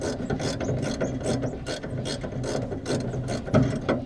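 Ratchet wrench clicking steadily as it loosens a bolt on a Valiant suspension during disassembly, a close, continuous run of rapid pawl clicks with metallic rubbing, no talking.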